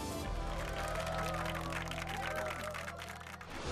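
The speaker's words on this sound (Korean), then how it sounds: "박수" Audience applause rises at a televised magic show after a card trick, steady clapping held over a low sustained musical hum and fading slightly near the end.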